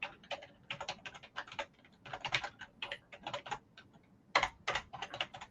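Typing on a computer keyboard comes through as quick bursts of close, crisp key clicks in uneven runs with short pauses, fairly quiet and with no voices.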